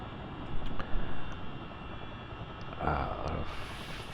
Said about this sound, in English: We are set for taxi and takeoff.